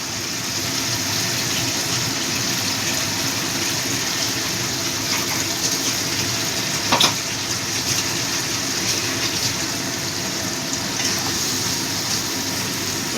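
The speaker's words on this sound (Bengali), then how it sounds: "জারটা ধুয়েও একটু জল দিয়ে দিলাম।" Water runs steadily into a rinsed jar in a home kitchen, a continuous close gushing stream that holds level for several seconds, with one faint knock midway.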